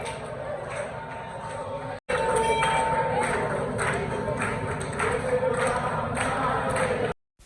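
Crowd murmur fills a busy Saturday at the Balaji temple in Vivek Vihar, with steady chatter and footsteps close around, dropping out briefly near the start and at the end.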